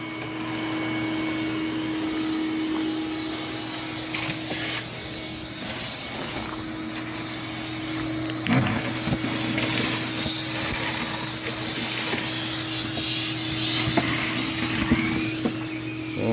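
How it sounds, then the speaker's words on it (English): A vacuum cleaner runs steadily while cleaning the interior of a diesel Chevette car with the seats removed, a constant close drone broken by occasional bumps and shifts in pitch as the nozzle moves. "keep vacuuming"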